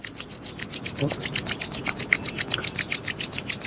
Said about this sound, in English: Rub your palms gently, generate heat.